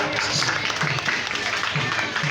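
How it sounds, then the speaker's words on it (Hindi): Crowd clapping at Baba Ramdev's fair, loud and continuous in a short burst, with a voice and general fair noise mixed in underneath. "तालियां।"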